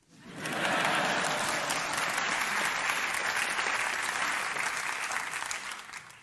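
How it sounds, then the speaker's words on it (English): Sustained audience applause, a dense wash of many hands clapping that swells quickly and holds steady before tapering at the end. "You can applaud."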